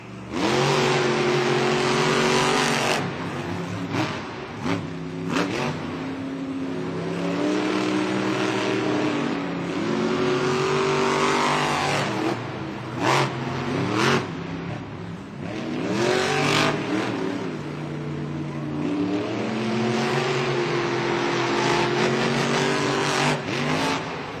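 Monster trucks race side by side at a Monster Jam event in Melbourne, Australia. Their engines roar continuously and loudly, with repeated revving surges and crowd-filled arena ambience throughout.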